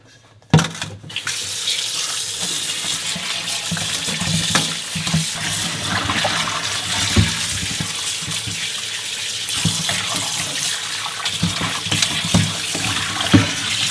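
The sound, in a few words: tap water rinsing pork bones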